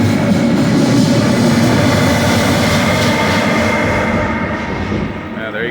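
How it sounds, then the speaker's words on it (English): A train pulling out of a station in Pisa, Italy gives a loud, steady mechanical roar and rumble that holds close for several seconds, then eases slightly as it moves off. "There's your train departing Italy."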